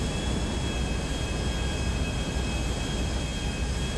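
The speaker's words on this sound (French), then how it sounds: "Donc là je prends rapidement l'avion." Airplane in GTA 5, a steady loud engine roar with a constant whine on top, unbroken for several seconds with no voices.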